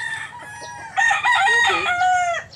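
Fighting roosters on a backyard yard crow in long harmonic calls, overlapping one another, with a short clucking phrase in the middle and a softer background rumble throughout.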